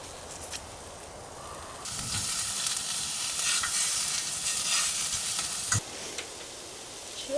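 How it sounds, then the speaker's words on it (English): Food, including tofu, sizzles steadily in a hot pan inside a car, a loud hissing crackle that swells after a quieter start, with an occasional clink. "Why are you like sizzling so hard?"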